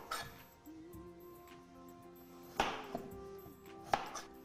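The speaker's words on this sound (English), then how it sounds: "So I'm going to cut it into effectively a rectangular log." A knife cutting a potato into a rectangular log on a board: a few quiet scraping strokes and two sharper chops landing against the board, close and soft, with no talk.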